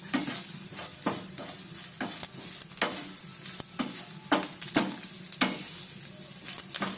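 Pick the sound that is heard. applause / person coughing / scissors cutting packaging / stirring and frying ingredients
stirring and frying ingredients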